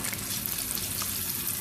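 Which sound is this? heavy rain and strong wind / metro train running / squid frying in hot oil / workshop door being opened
squid frying in hot oil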